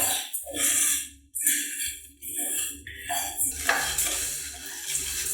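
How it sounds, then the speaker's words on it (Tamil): Star anise, cardamom, cinnamon and cloves dry roasting in a pan over a medium flame, stirred with soft scraping and light rattling in uneven bursts, close and moderately quiet. "நட்சத்திர சோம்பு, ஏலக்காய், பட்டை, கிராம்பு, மீடியம் ஃப்ளேமில் ஒரு 2லேருந்து 3 நிமிஷம் வறுத்துக்கலாம்."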